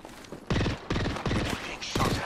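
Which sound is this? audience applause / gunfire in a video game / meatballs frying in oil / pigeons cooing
gunfire in a video game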